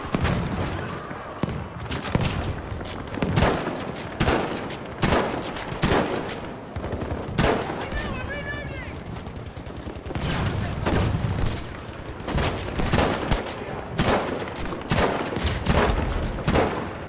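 Rifle shots crack repeatedly in Battlefield 5 during scout sniper play, loud sharp reports spaced about a second apart amid ongoing battlefield gunfire and explosions.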